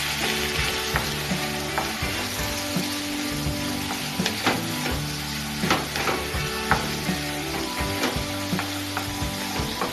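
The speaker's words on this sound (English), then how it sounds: "And allow to cook for 10 to 15 minutes until ground beef is fully cooked through." Ground beef simmering in a pan with Worcestershire sauce, black pepper and two bay leaves gives a steady, close sizzle with occasional stirring scrapes and pops throughout, no voices.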